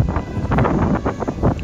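Wind gusting across Sydney Harbour near the Opera House, a steady loud broadband rush with buffeting surges against the microphone, continuous throughout.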